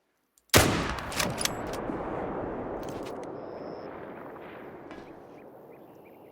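A single sharp, loud rifle shot cracks at an alligator in a hunting video game, then a long rolling echo slowly fades over several seconds of open outdoor ambience.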